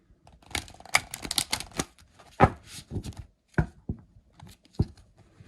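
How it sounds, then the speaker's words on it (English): Crisp riffling bursts of a card deck being shuffled, several quick flurries with short pauses, close up and fairly loud, no talking. "Let's have a look how this deck shuffles."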